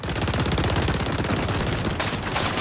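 Rapid, continuous automatic gunfire in XDefiant rattles loud and steady for about two seconds, coming from distant shooters far back, then cuts into a brief scuffle.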